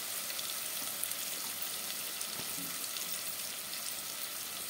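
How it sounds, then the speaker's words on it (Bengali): Vegetables with turmeric, chilli powder and Kashmiri red chilli powder fry in a pan for a moong dal with fish head, giving a steady, close hiss and sizzle throughout with no talking. "একটু ভাজা ভাজা করে নিচ্ছি সবজিগুলো।"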